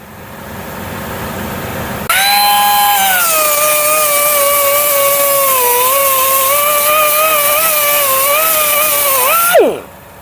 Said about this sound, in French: on va meuler les soudures inter-exter